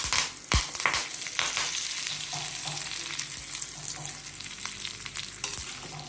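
Mustard seeds and cumin sizzle in hot oil in a wok. A close, continuous hiss runs throughout, broken by sharp pops and crackles, with no voices.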